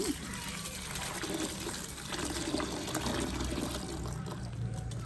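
Running water splashes and trickles over drumstick (moringa) leaves as they are rinsed by hand in a kitchen, a continuous close wash with a voice faintly in the background.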